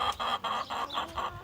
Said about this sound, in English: At least you get to listen to chickens the whole time